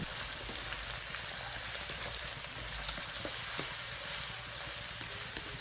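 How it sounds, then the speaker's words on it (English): Sliced onion fries in oil with cumin seeds in a wok, giving a steady, dense sizzle with fine crackling throughout, close and even, with no voices. "1 medium sliced onion, fry it until it turns slightly golden"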